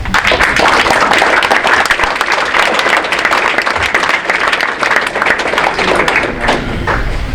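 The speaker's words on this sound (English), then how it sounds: "Team, you should give them a round of applause for coming out." Dense, sustained applause from a crowd at a high school winter sports awards night honoring boys basketball parents, steady and loud throughout with scattered claps and thumps, no talk over it.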